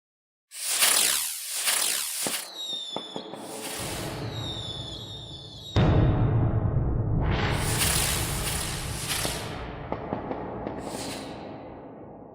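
Fireworks effect from a VST sound-effects plugin: sharp bursting cracks and sizzling crackle, loud and close, with a whistling rise, a big boom near the middle and spreading fizzing tails, no voices.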